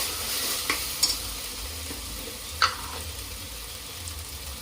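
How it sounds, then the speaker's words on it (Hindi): Asafoetida frying in a pot while it is being stirred, a steady close hiss of hot oil with a few sharp clinks and scrapes from the spoon, and no voices. "अब इसमें मैं डालूंगी हींग थोड़ा सा। भूनते भूनते"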